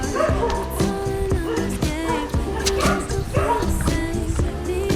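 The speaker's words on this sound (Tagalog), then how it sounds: "Aso." A dog barks and yips repeatedly nearby, its calls rising and falling with whimpering tones over a busy, noisy background.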